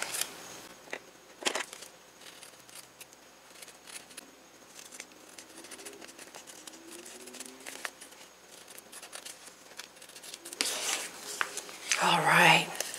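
Scissors trim washi tape on a tiny paper bag, producing quiet snips and papery rustling that grow louder and busier toward the end.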